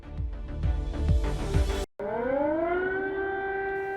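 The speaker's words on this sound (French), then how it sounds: "se sont réveillés au bruit des sirènes d'alerte aérienne" A wailing air raid siren in Kyiv, Ukraine rises and holds a long, steady tone, preceded by a burst of rumbling noise that cuts off abruptly.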